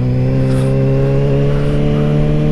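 Steady, loud engine drone of a motorcycle held at revs while a beginner practises lifting the front wheel into a wheelie, with a sustained tone and no talk.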